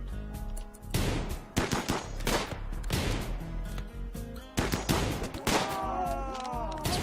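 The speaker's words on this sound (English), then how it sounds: "I'm going to have everyone except Rissa start firing" Colonists open fire with guns in the video game Rimworld, a dense run of repeated shots in bursts that stays loud and close throughout, with a brief electronic tone near the end.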